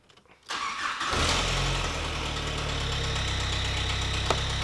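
A Skoda Fabia with a whistle, power loss and rattle fault cranks and restarts, the engine catching with a surge after a brief starter whir, then settling into a steady, close-up idle with a faint whistle.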